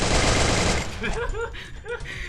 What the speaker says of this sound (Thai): อิ่มยิงเอฟซีตายอ่ะ